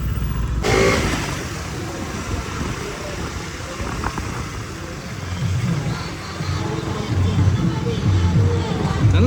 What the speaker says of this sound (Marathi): ब्रिज पूर्णपणे जाम झालेलं आहे पालखी पुढे ना मागं गाड्यात बघू शकते एक लाईनिंग गाड्या चालू आहेत